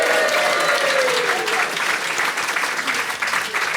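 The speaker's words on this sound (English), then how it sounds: "Please give a big round of applause to my guests in this second part." Live podcast audience applauding guests, a steady burst of clapping from a room full of people, loud and continuous, with a voice speaking over the start.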